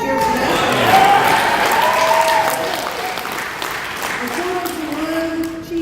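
An audience at a banquet applauds and cheers, with sustained clapping and some vocal cheers throughout that gradually taper off.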